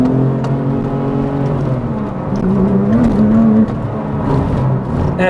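A Porsche GT2 sports car with 500 horsepower accelerates hard, its engine note climbing steadily and loud, with a sustained rising roar and no voices over it.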